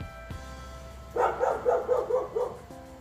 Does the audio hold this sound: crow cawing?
no